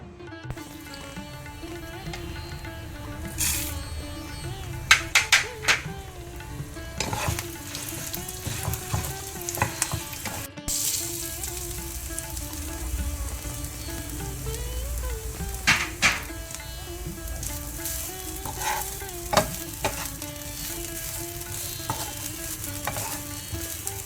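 Grated coconut, chillies and urad dal fry in a little oil in a pan for a Mangalorean tender jackfruit and chana curry, giving a steady soft sizzle broken by repeated close spoon scrapes and clinks, with no talking.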